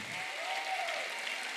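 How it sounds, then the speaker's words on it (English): Church congregation at a worship conference claps its hands in praise, a steady wash of many hands applauding at moderate volume with no voices over it. "Would you give God a hand clap of praise?"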